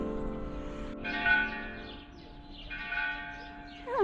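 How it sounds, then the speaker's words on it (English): Church bells in Bilbao ring with sustained, resonant tones, one peal following another, clear and moderately close, with faint birdsong near the end. "Ah, the bells, the bells. Oh, another one, they're answering."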